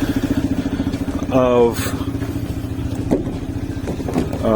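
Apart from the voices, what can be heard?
CSC RX3 motorcycle riding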